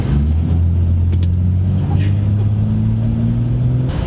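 A stock 1970 Dodge Challenger, 50 years old, with its engine droning at a steady low pitch that rises gradually as it accelerates, loud and close throughout; no voices stand out.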